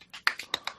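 Hands clapping in tribute at the close of a festive episode, about six quick sharp claps in under a second, close and dry.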